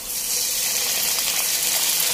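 Water, about three tablespoons, poured into a hot skillet of browned breakfast potatoes, giving a steady loud hiss and gush that lasts the whole moment with no talk.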